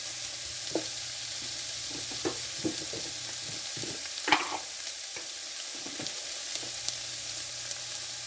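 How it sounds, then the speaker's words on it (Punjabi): Leftover rice ingredients roasting in a hot pan for a vegan dish, with a steady close-up frying hiss broken by irregular spatula scrapes and knocks against the pan, and no voices. "ਚੰਗੀ ਤਰ੍ਹਾਂ ਇਹਨਾਂ ਨੂੰ ਭੁੰਨੋ"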